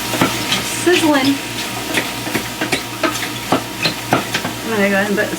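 Close pan sizzle of BBQ chicken and cheesy potatoes with repeated utensil scrapes and taps as food is stirred, plus brief squeaky sounds over the frying.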